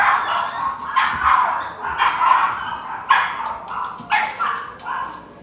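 A single dramatic dog barks and yips loudly nearby in a run of sharp, repeated bursts with short gaps, some drawn out into whiny cries.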